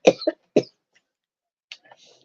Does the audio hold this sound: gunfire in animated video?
no